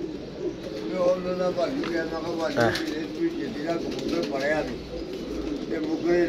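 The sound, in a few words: pigeons cooing and flapping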